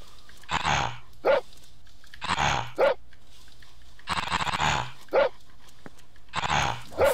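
A dog in a French horror video game barks over and over in loud, harsh bursts, each volley ending in a higher yelp, repeating steadily for several seconds with no talking.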